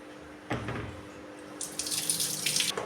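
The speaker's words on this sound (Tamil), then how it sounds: "நல்ல தண்ணி ஊற்றி கழுவுறேன்" Tap water runs into a bowl of rice being rinsed for rice flour, a steady splashing stream with a few clinks and sloshes of grains and water, close and loud, no voices.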